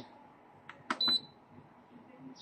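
A kitchen timer is being set while pork kaldereta cooks, giving a couple of brief, sharp electronic beeps close by against quiet background noise.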